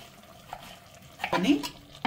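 A spoon stirring Andhra-style stuffed brinjal (guttivankaya) curry in a pan, with one short scraping, sizzling pass near the end and a faint clink, and no talk.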